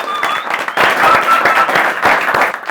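Studio audience on a talk show applauds a guest, a short burst of close, lively clapping with a few whoops mixed in, lasting under three seconds.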